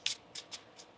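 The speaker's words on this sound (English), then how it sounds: "One more shuffle here." Tarot cards are shuffled in short riffled bursts, four quick papery swishes close by with brief pauses between them and no voices.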